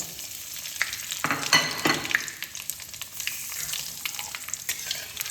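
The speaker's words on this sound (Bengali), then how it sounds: "সর্ষের তেল গরম হয়ে গেছে, আমি ফোড়নে দিচ্ছি 2টো শুকনো লঙ্কা, কালো জিরে 1/2 চামচ" Two dried red chillies and half a spoon of black cumin sizzle in hot mustard oil as a tempering, a close crackling fry with brief spitting bursts and light stirring, no voices.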